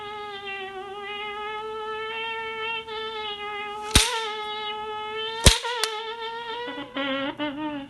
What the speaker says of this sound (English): whenever you wield it like a whip, it makes a slapping sound